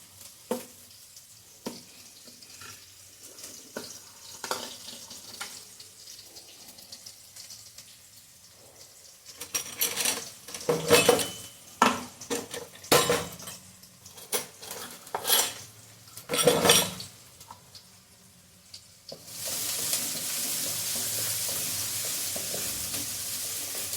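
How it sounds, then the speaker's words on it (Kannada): Garlic goes into a cooking pan and is stirred, with sharp spoon and metal clatters against the pan, quiet gaps between, then a steady loud sizzle of frying for the last few seconds, and no talking. "ಇವಾಗ ಬೆಳ್ಳುಳ್ಳಿ ಹಾಕಿಬಿಡ್ತೀನಿ"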